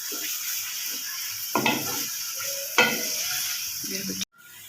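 Onions frying in a pan for a Mughlai chicken korma: a continuous sizzle with two brief bursts of louder stirring or scraping, ending with an abrupt cutoff into quiet.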